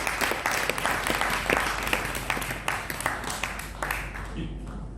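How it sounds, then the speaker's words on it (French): An audience at a book launch claps steadily and fairly loudly for several seconds, a dense patter of many hands that thins and fades at the end. "On peut encore applaudir Sunayana."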